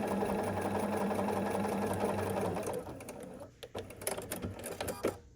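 A sewing machine stitches a quilt block in a fast, steady whirring hum for a few seconds, then stops, leaving light handling clicks and rustles of fabric.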